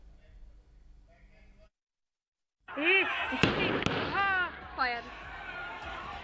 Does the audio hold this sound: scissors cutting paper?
no